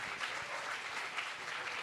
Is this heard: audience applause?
yes